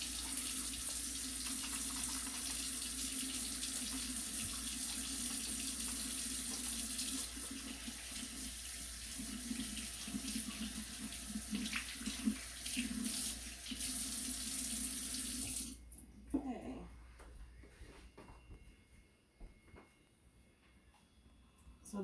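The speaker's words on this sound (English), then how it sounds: "we're going to start first by washing our hands, because we always wash our hands before we cook" Kitchen tap running steadily while hands are washed before cooking, a close continuous hiss of water with faint splashing and rubbing, then the flow stops and quieter handling sounds follow.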